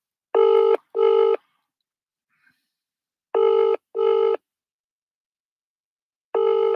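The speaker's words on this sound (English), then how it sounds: "I tried to call her American phone number" A Viber call to an American phone number rings back in clear, loud double pulses, two bursts, a pause, two more, then a single burst, with no voices.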